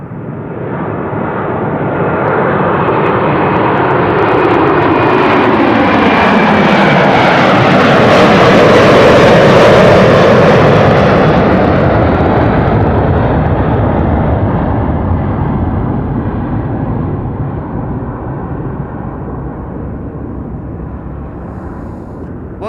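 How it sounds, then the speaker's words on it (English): A KLM Airbus A330-300 jet bound for Sint Maarten takes off from Amsterdam Schiphol, a loud continuous engine roar that swells to a peak midway and slowly fades as it climbs away, with no voices over it. "KLM flight 787 to Sint Maarten"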